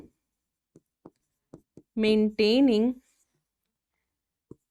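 Writing on a board during a biology lecture: a handful of short, sharp taps and scratches spaced apart, broken by a brief stretch of someone speaking.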